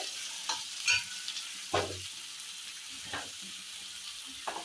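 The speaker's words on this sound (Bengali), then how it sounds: "পেঁয়াজটা লাল করে ভাজা হবে।" Chopped onions and tomatoes sizzle in hot oil for a Bengali mutton curry, with a steady frying hiss broken by a few sharp scrapes and knocks of a spoon stirring the pan.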